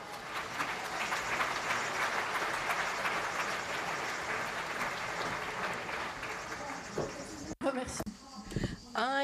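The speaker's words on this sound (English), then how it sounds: "So Marion, we can give you a second round of applause." Audience applause at a conference closing session, dense sustained clapping from a large crowd that fills the hall, then breaks off as a voice begins talking near the end.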